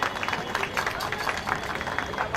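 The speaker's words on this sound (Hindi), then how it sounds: "जोरदार तालियां छोटे बच्चों के लिए" An audience at a children's drawing competition medal ceremony gives the young winners a round of applause, a fairly quiet, busy patter of clapping with crowd voices mixed in.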